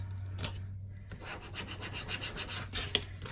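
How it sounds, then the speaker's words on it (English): A fingertip rubs a piece of vinyl transfer down onto a 12x12 Halloween scrapbook page, giving a faint, close, repeated dry scuffing with a light tap near the end. "give that a little rub. And the vinyl becomes just like a sticker."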